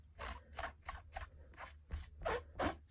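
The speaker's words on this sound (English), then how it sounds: "I am going to get my Simply Chamois and take it out of its plastic bag so it's not crinkling in your ear" A Simply Chamois being pulled from a plastic bag, with close, loud bursts of crinkling and rustling in an irregular series of about eight short scrunches.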